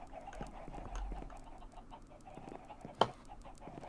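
Chickens in the video game Minecraft cluck softly and faintly over a low ambient background, with a single sharp click partway through.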